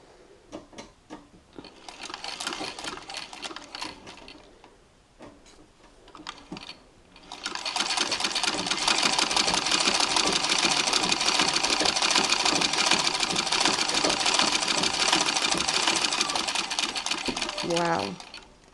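A treadle sewing machine stitches after a new spring coil belt is fitted: after some handling and a brief voice, it runs in a loud, rapid, steady clatter for about ten seconds, then stops.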